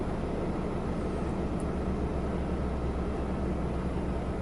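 A car wash's underbody water jet sprays up beneath a car, giving a steady, loud, broadband rushing hiss that holds without a break for the whole stretch.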